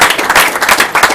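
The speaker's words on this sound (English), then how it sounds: "Let's give Alessandro a round of applause" Loud, close burst of applause from an audience at a tech meetup after a speaker's presentation, a short dense wash of clapping.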